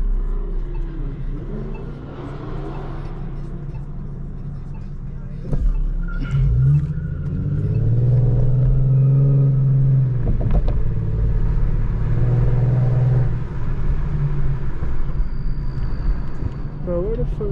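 Cars spinning on a downtown street at night, heard from inside an Infiniti Q50 as a low, steady engine rumble that swells into revving and tire noise, with people talking and shouting over it throughout.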